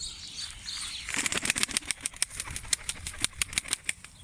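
Disturbed pigeons beat their wings in a loft, a sudden rush of flapping that keeps up as rapid clattering wingbeats, close and fairly loud over faint background hiss.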